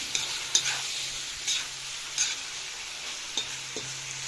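Mushrooms and vegetables stewing in a pan, a low steady sizzle under a few scattered stirring clicks and scrapes.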